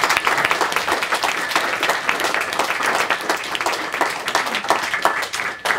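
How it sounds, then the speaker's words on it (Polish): Sustained applause for panelists at an artificial intelligence panel, many hands clapping densely and steadily throughout, with a few faint voices mixed in. "ja oczekuję wielkich, że tak powiem, oklasków dla panelistów najpierw."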